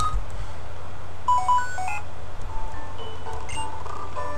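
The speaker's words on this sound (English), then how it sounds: "and my Xtransceiver will start ringing." Xtransceiver ringing in the Pokemon Blaze Black video game, heard as a short, clear electronic ringtone of repeated tonal beeps over a low steady game-music hum, with no talking.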